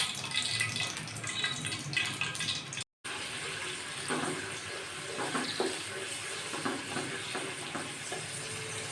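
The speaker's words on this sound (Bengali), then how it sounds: "তেলটা গরম হয়ে গিয়েছে, এখন এখানে দিয়ে দিব 2 টেবিল চামচ পরিমাণ পেঁয়াজ বাটা" Two tablespoons of onion paste go into hot oil for a Bengali prawn bhuna and give a loud, close sizzle. After a brief dropout it settles into a steady frying hiss with scattered stirring clicks. No one talks.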